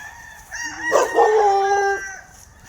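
A grey bulik gamecock rooster crows once, close and clear, a rising call that holds for about a second before tailing off, with faint background noise.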